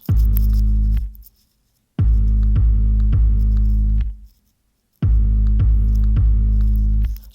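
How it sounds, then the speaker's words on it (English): Deep, sustained bass notes from a hip hop beat play in three bursts, each lasting a couple of seconds with brief silent gaps between, loud and alone with a thick low rumble and faint ticking percussion on top. "here is a sample of what the bass is doing in the mix"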